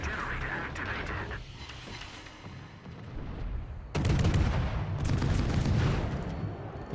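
Naval guns fire in the World of Warships game as a continuous stretch of heavy booming and crackling battle noise, growing louder partway through, with a voice talking over it.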